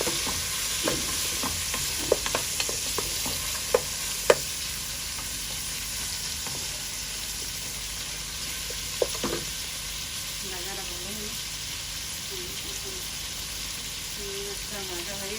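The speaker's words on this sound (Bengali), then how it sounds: "লাউয়ের জন্য চিংড়ি মাছ দেওয়া হয়েছে একটু ভাজিয়ে দিন" Shrimp fry in a pan for a bottle gourd dish, a continuous hiss of sizzling oil with a cluster of spatula clicks early on and a few more later, close by, with faint background voices.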